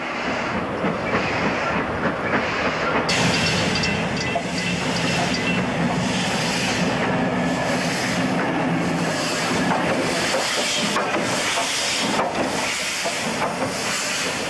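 The steam locomotive Pendennis, running as a light engine, crosses the Fremantle rail bridge, rumbling steadily with a continuous hiss and rolling clatter, loud and close, with no voices.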